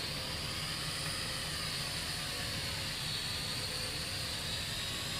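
A Kai Deng X-Fighter K60 drone's motors hover at full throttle, giving a steady, dense whine with broadband rotor noise that holds constant and fairly close, with no talking.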